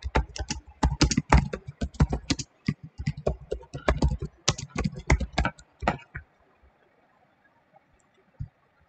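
Someone types a bridge name on a computer keyboard with a quick, close run of crisp key clicks lasting about six seconds, followed by near silence with one or two stray taps.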